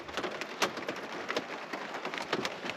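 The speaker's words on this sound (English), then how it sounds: "That's the rain. So it's raining tonight." Rain falls at night on the roof of a van, heard from inside as a soft, steady patter with scattered sharper drops, fairly faint and with no voices over it.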